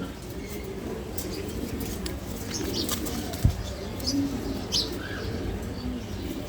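A group of racer pigeons, four females and five males, kept together: low, soft cooing continues throughout over a steady background, with a brief wing flap and a few faint chirps.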